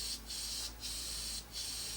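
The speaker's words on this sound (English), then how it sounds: "just lightly spray it on" Short bursts of an airbrush spraying paint onto a 1/32 Tamiya F-16CJ model kit, three hissing pulses with brief gaps between them, close and steady.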